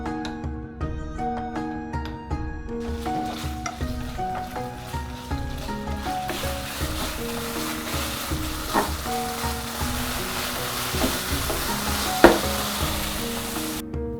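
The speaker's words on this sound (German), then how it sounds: "Wir machen die Pfanne richtig heiß. Ein Schuss Öl dazu. Wir braten das Fleisch vor." Meat searing in a very hot pan with a splash of oil gives a steady, loud sizzle that runs throughout, with occasional stirring scrapes and pops, close up and alone.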